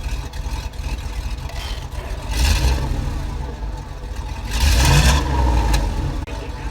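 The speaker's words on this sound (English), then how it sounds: "Stop and rev it." A donor vehicle's V8 engine idles roughly, then revs twice in loud surges, the second longer and stronger, heard up close outdoors with the engine running rich.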